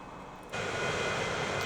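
An airplane flying in the Transport Fever 2 game, a steady broadband engine roar that jumps louder about a third of the way through and holds constant, with no talk over it.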